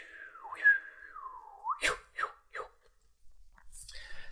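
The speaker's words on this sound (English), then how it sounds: "Breathe down into the ground in a whistling kind of blowing way." A long whistling exhale blown out through pursed lips during a breathing exercise, arms crossed over the chest, with a sliding airy tone followed by several short breathy puffs, close and soft.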